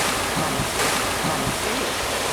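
Water waves washing in at an outdoor film shooting location, a steady, dense rushing surge of water that fills the whole stretch at constant loudness, close by.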